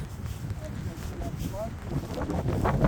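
Steady wind buffets the microphone on a coastal lakeside trail in rain, a continuous broadband roar that swells slightly toward the end, with a voice faintly audible underneath.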